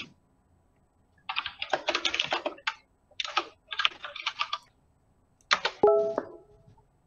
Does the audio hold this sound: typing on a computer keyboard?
yes